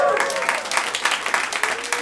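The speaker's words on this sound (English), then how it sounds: "You can keep clapping, it's fine." Steady audience applause at a stand-up comedy show, a crowd clapping continuously and fairly close throughout, with a voice speaking faintly over it.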